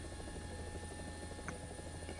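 A helicopter in a video game gives a steady low rotor drone with a constant hum, continuous and fairly quiet throughout.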